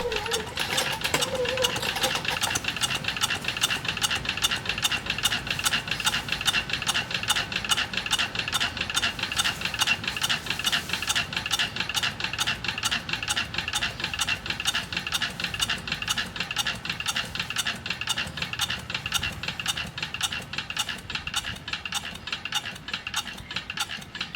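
A homemade slow-running engine ticks over in a fast, even mechanical clatter of rapid repeated clicks, like gears or a ratchet, close and steady throughout with no pauses.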